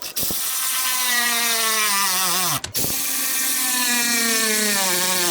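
A power tool snugs up clamps during a compound turbo install on a 6.7L Ford F450 truck, a steady loud whirring drone that bends slightly in pitch, broken by one short pause, close and alone.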